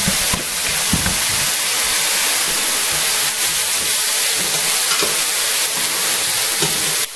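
Meat for goulash searing hard in a hot pan, a loud, steady, broadband sizzle that fills the whole stretch, with a few soft clunks of stirring and no voices.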